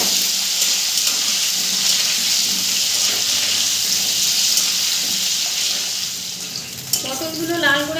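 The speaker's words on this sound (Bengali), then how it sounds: "ভালো করে নেড়ে চেড়ে লাল করে পটলগুলোকে আমি ভেজে নেব।" Pointed gourd (potol) fries in hot oil with turmeric, giving a loud, continuous close sizzle while being stirred, with a brief clatter near the end.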